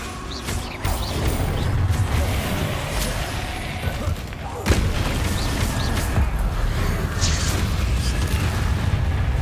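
Bombarda spell explosions in the Hogwarts Legacy video game: a loud thud lands at the midpoint of a constant, noisy spell-casting combat background, with voices talking throughout.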